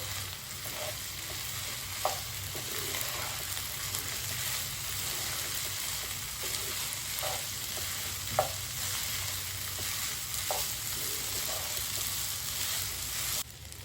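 Jeera rice with cumin frying in a pan, a dense, steady close sizzle throughout, broken by a few sharp spoon knocks against the metal as it is mixed; no talking.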